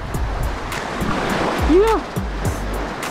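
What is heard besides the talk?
strong sea waves at a cave shore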